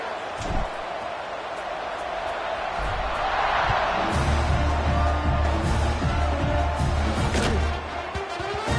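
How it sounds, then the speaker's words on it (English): A football stadium crowd buzzes after a score, a steady roar of many voices with a few louder whoops. It grows fuller partway through and holds near and loud under a commentator's voice. "this crowd is buzzing after that last score"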